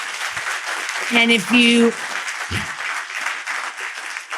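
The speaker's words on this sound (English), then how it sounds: "I hope everybody could give a hearty round of applause to Ambassador Verveer" An audience applauds after a fireside chat with Ambassador Verveer, a dense, steady wash of clapping across the whole stretch while someone briefly speaks over it.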